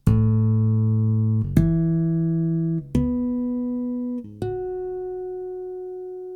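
Harmonics on a Chapman Stick through a Stick Tech pickup ring out as four bell-like tones, each plucked note sustaining about a second and a half before the next, stepping upward in pitch.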